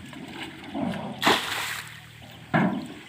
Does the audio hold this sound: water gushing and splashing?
yes